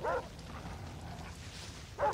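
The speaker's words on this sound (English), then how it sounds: "I don't want to kill the doggies, though." Dogs in Far Cry 3 giving two short, fairly faint yelps or barks, one at the start and one at the end, with a low background hum between and no talk.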